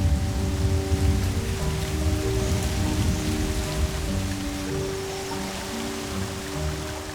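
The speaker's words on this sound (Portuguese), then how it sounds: "3 ou 4 meses de chuvas severas, umidade, tempestade de raios e milhões de litros de chuva" Heavy rain pours steadily during the wet season in the wild Australian savanna, a dense, constant hiss of drops hitting surfaces with no voices.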